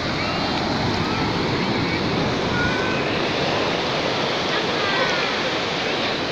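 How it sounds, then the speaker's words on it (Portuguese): Ocean waves breaking on a beach, a steady, loud, continuous roar of surf with no pauses and no clear individual crashes. "Gente, o tamanho das ondas."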